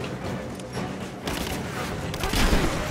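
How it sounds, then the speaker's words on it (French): Shotgun blasts in the video game Rise of the Tomb Raider: a few heavy booming shots amid a dense, busy game soundscape, with faint speech in the mix. "Alors, fusil à pompe."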